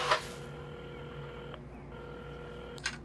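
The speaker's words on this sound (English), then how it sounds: "at the counter, Carmen had started dialing the phone." A telephone being dialed inside a quiet café in the video game Assemble with Care, with a steady electronic tone running under low room ambience and a short click near the start and another near the end.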